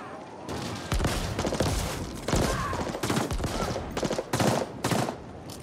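Gunfire in The Ascent, a sci-fi shooter game, as dense repeated bursts of loud shots in rapid clusters throughout, with game noise and effects in between.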